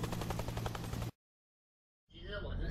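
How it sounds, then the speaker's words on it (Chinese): Rapid bursts of video game gunfire crackle loudly for about a second, then a brief silence before more harsh game noise resumes. "枪声"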